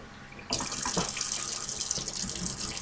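Water gushes suddenly from a tap onto dry cornmeal in a home kitchen to wet it, a loud steady splashing pour that begins after a brief quiet moment and runs on alone.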